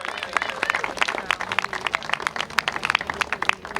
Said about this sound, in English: Let's give the Lucases a round of applause and thank them for their incredible work.